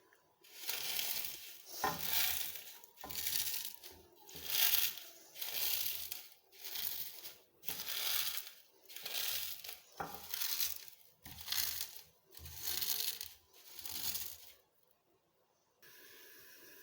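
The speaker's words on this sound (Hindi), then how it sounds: "जब दूध उबाल आता है तब तक हम सेवइयाँ तोड़ लेते हैं" Dry vermicelli being broken and crushed by hand, a rhythmic series of crackling, crunching bursts roughly every second, close and fairly quiet, fading to near silence at the end with no speech.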